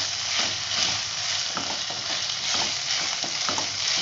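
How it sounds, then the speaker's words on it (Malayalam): Vegetables for egg manchurian stirred slowly as they fry in a pan, a dense, close sizzle broken by regular soft scraping strokes. "നന്നായിട്ട് വാടുന്ന വരെ നമുക്കൊന്ന് പതുക്കെ ഇളക്കി കൊടുക്കാം"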